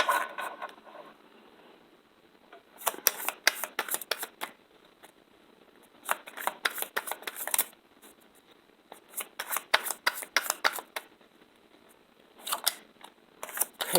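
Tarot cards are shuffled in short, crisp riffling bursts that repeat every few seconds, close and fairly quiet, with near silence between them.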